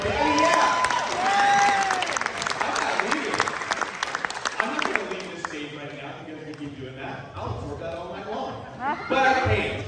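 Talent show audience at Arroyo Vista in 2022 clapping and cheering loudly, with whoops and shouting voices over dense applause that fades then swells again near the end.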